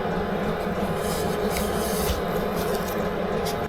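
A steady, continuous rubbing grind as an engine valve for a Suzuki DRZ 400 is hand-lapped against its seat with grinding paste, close and unbroken with no talk.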